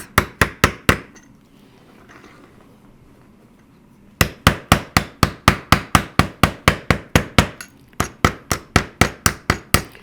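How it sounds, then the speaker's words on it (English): A hammer gently taps fine silver on a dapping block in a steady, quick rhythm of light, ringing strikes, pausing briefly before resuming with many evenly spaced taps. "I'm barely lifting my hammer an inch. I'm just tapping gently."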